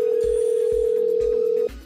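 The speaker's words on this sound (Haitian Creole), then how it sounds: "et téléphone a sonné." A telephone sounds with a steady electronic tone pierced by regular soft pulses about every half second, close and clear, cutting off abruptly near the end.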